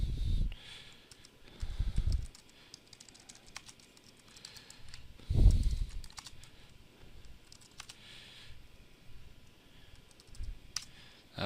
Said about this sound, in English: just type in some text here